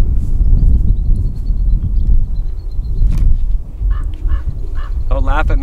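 A bird on a golf course gives a series of honking, goose-like calls that come through clearly over loud wind rumble, with a quick run of sharper calls near the end.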